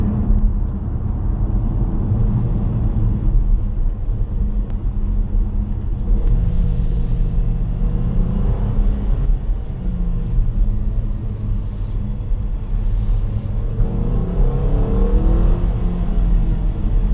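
A 2017 Infiniti QX30 accelerates hard on an open road, its engine a loud continuous rumble with rising revs and gear changes heard from inside the cabin.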